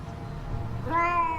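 A cat meows in a scene from the Catwoman film, one drawn-out, rising meow near the end following a low rumbling background, close and clear with no talk.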